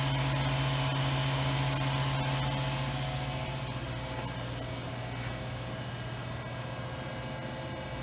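A 2016 Haas VF2 CNC mill spindle running at 8,000 RPM, a smooth, steady whine with a constant hum and high tones, easing slightly in loudness over the span, with no speech.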